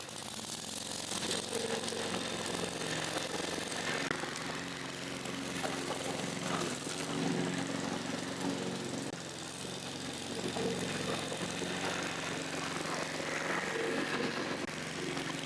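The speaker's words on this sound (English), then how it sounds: "let's see if my mower can actually cut grass" Petrol lawn mower cutting through tall grass, its small engine droning steadily up close with uneven low chugging as the load changes, running alone without speech.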